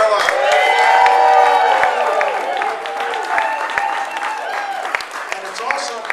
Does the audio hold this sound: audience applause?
yes